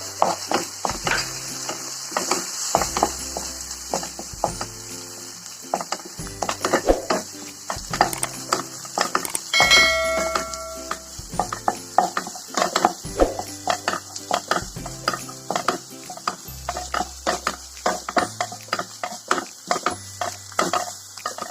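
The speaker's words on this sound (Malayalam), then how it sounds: "ഇനി ഇതിലേക്ക് മുട്ട ഒഴിച്ച് കൊടുക്കാം." Egg poured into a hot pan for egg upma with wheat, then stirred and frying: a steady sizzle with repeated scraping strokes of a spoon against the pan and occasional metallic clinks, close and fairly loud.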